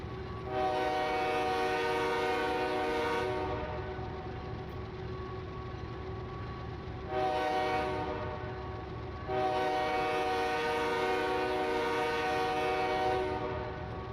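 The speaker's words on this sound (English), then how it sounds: "it's the same exact horn that's on this locomotive" A diesel locomotive's multi-chime air horn in a train simulator blares in two long blasts, the first about three seconds and the second longer, over a steady rumble of engine and rolling rail cars, with no voices.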